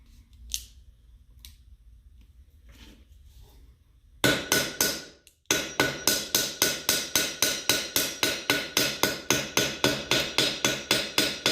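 A hammer strikes the metal lip of a citrine cuff bracelet in a steady, rapid series of sharp, bright taps, loud and close. The taps come after a quieter stretch and one brief burst of blows.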